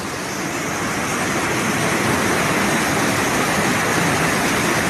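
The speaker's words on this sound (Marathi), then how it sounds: "या डोंगरातून हे पूर्ण पाणी येत आहे" Water pouring down from a mountainside at a temple site, a dense, steady rushing roar, loud and close, continuing without pause.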